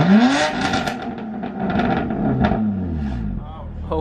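A car with an Active Autowerke equal-length mid pipe revs hard in sport mode, a rising engine note sweeping up at the start, then a steady throaty drone under voices.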